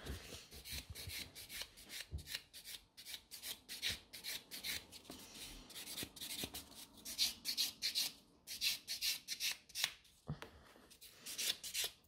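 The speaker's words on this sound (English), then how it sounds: "I have just started buffing it" Natural fingernails buffed during a BIAB manicure, with a steady run of quick, scratchy rasping strokes close up, fairly soft, continuing without talk.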